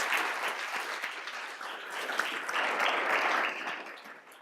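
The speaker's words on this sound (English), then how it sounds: "can we give our panel a round of applause?" An audience at a Michigan workforce panel event applauds its panelists: a full, steady round of many hands clapping at moderate level, swelling slightly midway and tapering toward the end.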